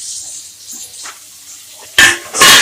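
Onions and tomatoes sautéing in a pan, a soft sizzle early on, then two loud bursts of hissing and stirring near the end.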